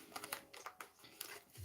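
A thick tarot card deck being shuffled by hand, a brief run of crisp, close papery riffling taps in quick irregular bursts, no talking.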